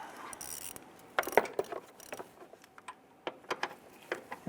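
A ratchet snugs down a bolt on a Jeep Grand Cherokee 4.7L V8 engine mount, giving quiet bursts of quick clicks with short pauses between them.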